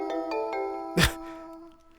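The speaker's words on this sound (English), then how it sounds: "Someone's phone is ringing?" A smartphone ringtone chimes in the Digimon Survive video game, with repeated melodic tones and a sustained musical drone, interrupted midway by a brief loud whoosh-like burst.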